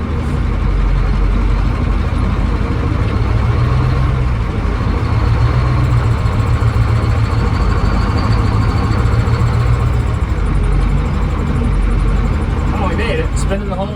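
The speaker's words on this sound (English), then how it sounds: "Spinning tires." Dump truck tires spinning on glare ice while trying to load scrap metal, a steady loud low engine roar and continuous rumble throughout, with no clear change until a brief rattle near the end.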